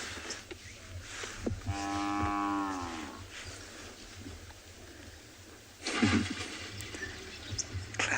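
African buffalo in a herd standing in the water low and moo at moderate distance, one drawn-out call rising and falling over steady outdoor ambience, with a short rustling burst later.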